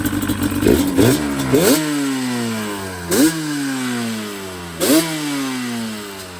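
Yamaha Banshee ATV with its two-stroke engine started cold without choke, firing up close by and revving in repeated sharp blips that fall back each time to a buzzy, steady idle.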